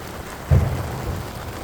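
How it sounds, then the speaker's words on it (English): Steady rain falls outside during a thunderstorm, with a short low thunder rumble near the middle over the constant patter. "It's raining. There's lightning outside."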